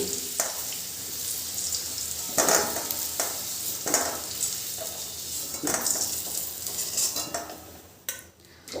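Potato pieces frying in oil with turmeric and salt, a continuous sizzle broken by repeated metal spatula scrapes and clinks against the pan, close and fairly loud.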